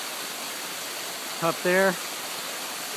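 Bonita Falls at Lytle Creek in Southern California roars as a constant broad rush of falling water, while a person briefly speaks over it partway through.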